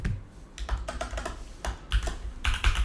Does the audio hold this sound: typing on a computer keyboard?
yes